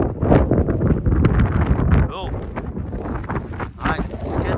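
Strong wind gusts of around 40 mph buffet a hill summit campsite between Hartfell and Lochhead Hill, roaring loudly and steadily across the microphone, with brief voice-like sounds mixed into the rush.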